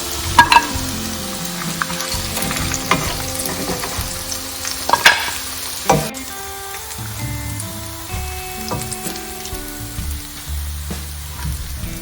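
Beef pieces frying in hot oil crackle and sizzle loudly up close, with intermittent stirring clatter and spatters throughout and nobody speaking.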